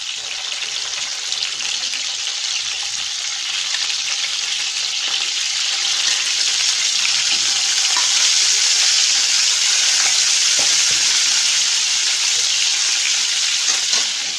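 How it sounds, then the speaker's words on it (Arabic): Chicken pieces frying in a pan for a kebab tagine, a steady loud sizzle and crackle running throughout with occasional pops, growing slightly louder midway. "اذا هنا راح نحمرو انا على الجهتين ومن بعد نحيه"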